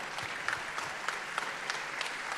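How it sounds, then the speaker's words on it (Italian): A crowd at a Lega Nord party event in Padova's Pala Geox arena applauds in a continuous, moderately distant wash of clapping with a few sharper individual claps. "Dai, cogliamolo con un applauso"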